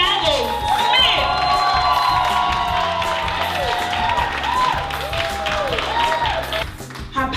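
An audience claps, cheers and whoops for a speaker, with loud crowd shouting and whistling-like cries over steady clapping that fades toward the close.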